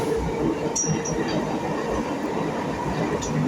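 An electric train rolls between Indira Nagar and Park stations with a steady loud rumble of wheels on rails, faint squeals and clacks over continuous noise, and no talk.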